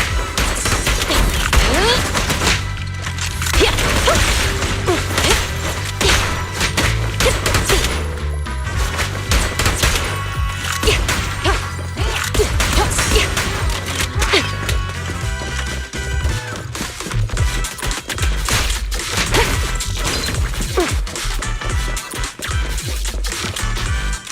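Sustained gunfire during a combat mission in Zenless Zone Zero: dense, loud bursts of shots and impacts hammering nonstop under the game's music and effects, with no break in the barrage.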